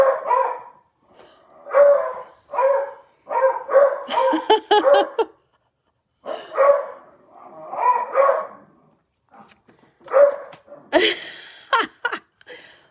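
Dogs bark repeatedly in bursts, fairly close and loud, with a short pause midway before the barking resumes in another volley, heard during an indoor live stream.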